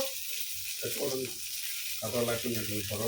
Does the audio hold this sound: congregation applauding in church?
no